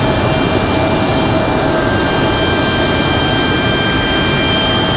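A Republic Airways United Express Embraer E175 jet arriving at Raleigh-Durham airport, a steady loud broadband roar with a faint whine, continuous throughout and no talk.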